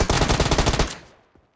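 Rapid close-range gunfire from a shotgun and MK rifle in a PUBG-style battle royale game, a loud dense burst of about nine shots lasting under a second, then a fading tail with one faint later thud.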